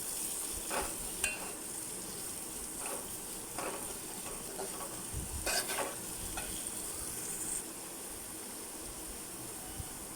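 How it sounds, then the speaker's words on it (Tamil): Onions sauté in a pan for an egg gravy masala, giving a soft continuous sizzle with a few light scraping stirs and utensil taps, faint and close with no talking. "வெங்காயம் நல்லா வதக்கி விட்டுக்கோங்க."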